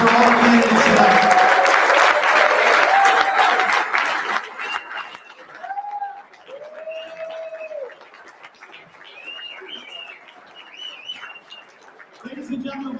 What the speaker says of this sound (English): How about a big round of applause for all the candidates tonight?